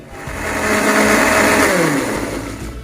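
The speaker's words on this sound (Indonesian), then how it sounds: "kita langsung blender" Electric kitchen blender grinding young galangal with a little pepper into a fine paste for chicken semur, a loud continuous motor whir with a rising pitch, running alone and close up.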